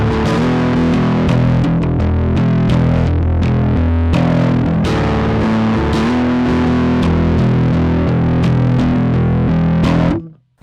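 Sterling by Music Man DarkRay bass played on the omega setting, a loud, thick and distorted sustained riff with plucked attacks, running steadily before cutting off at the end.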